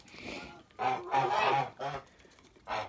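Geese honk in loud, close bursts inside a snowy winter enclosure shared with muscovy ducks, a few separate calls with short pauses between.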